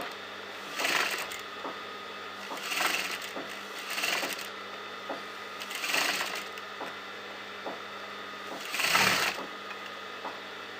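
A sewing machine stitches around a neckline margin, a steady low mechanical whirr broken by soft periodic clacks and louder bursts about every second or two, close and moderately quiet, with no voices.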